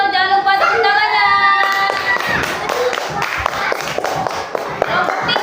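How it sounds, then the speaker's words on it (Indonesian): A classroom of primary school pupils claps together for a correct answer in an Indonesian language lesson, a rhythmic burst of many hands with a sung or chanted voice over the start. "Jangan lupa tepuk tangannya."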